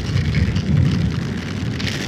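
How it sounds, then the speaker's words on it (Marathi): Heavy monsoon rain pours during a motorbike ride at Sangameshwar on the Mumbai–Goa highway, a steady dense roar with no breaks and no voices. "संगमेश्वरला मजबूत पाऊस चालू आहे"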